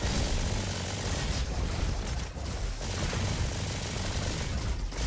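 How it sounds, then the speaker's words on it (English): The Valkyrie rifle in the video game Roboquest fires a dense, unbroken stream of shots, loud and sustained, with only brief dips in the barrage. "Kind of hit a bit with the Valkyrie rifle, hit a javelin, shoot a bit"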